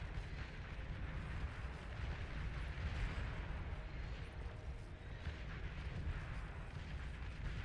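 Rockets and artillery fire in the Beyond All Reason strategy game form a faint, continuous rumble of distant blasts and bursts, with no clear single impacts standing out.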